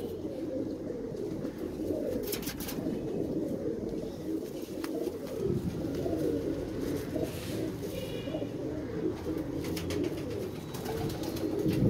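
Many pigeons coo together in a low, continuous, overlapping murmur, close and steady throughout, with faint clicks and fluttering above it.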